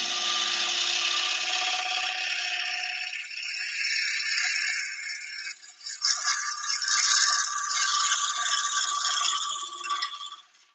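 A 3/8-inch gouge cuts a 12-inch wooden bowl on a lathe, a fairly quiet scraping, rattling hiss with slight vibration, pausing briefly midway and then resuming.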